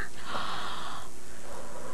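One deep breath drawn in by a child with an ongoing cough, with a slight wheeze, then a softer exhale, close and alone.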